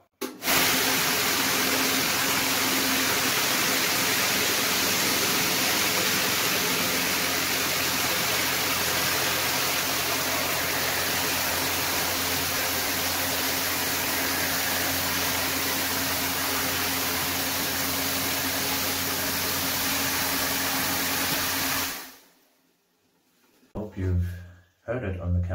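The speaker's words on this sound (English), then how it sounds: "Let the tumbler run and add water." A gemstone rock tumbler runs with water added, giving a loud, steady rushing churn that holds for about twenty seconds and then cuts off abruptly, leaving near silence with a few faint knocks.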